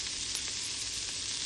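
Onions fry in a pan for capsicum masala, giving a soft, even sizzle that stays constant without breaks.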